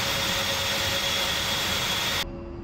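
An A-10C jet aircraft's engines roar in the DCS World flight simulator, a loud steady broadband whine with a high tonal hum, cutting off abruptly near the end to a quieter low rumble.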